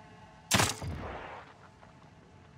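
A single loud gunshot from a weapon aimed at an enemy's head in The Evil Within 2 cracks sharply, followed by a decaying rumble and quiet ambience.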